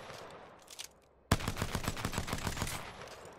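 Rapid gunfire from the P2020 pistol in the video game Apex Legends, a loud abrupt burst of repeated shots in quick rhythm after a quieter opening.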